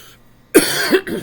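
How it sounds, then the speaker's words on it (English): One close, loud cough bursts out after a quiet moment, followed by a second rough cough and throat noise. "Apologize for my coughing."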